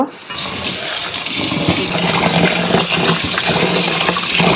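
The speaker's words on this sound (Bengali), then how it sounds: "ভালো করে 2 মিনিট জল ফেলে তারপর ডালটাকে ধুয়ে নেব" Running water gushing steadily into a vessel while mung dal is rinsed, a loud continuous splashing flow that starts abruptly and keeps going to the end.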